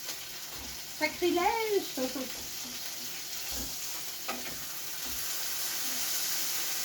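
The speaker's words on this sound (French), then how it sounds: "Je vais retourner mes steaks." Steaks sizzle and hiss steadily in a hot pan while they are flipped, with brief clatters of handling and a few words spoken over the cooking.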